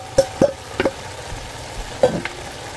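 Chicken going into a pan of softened onion and garlic, with a low frying hiss underneath and several sharp scraping and stirring knocks against the pan.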